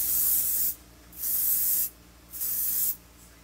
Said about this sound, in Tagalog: setting spray ko pa rin